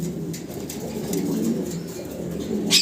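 A pair of white Mundian pigeons coo softly in a cage, with low, repeated burbling calls at close range over faint background noise.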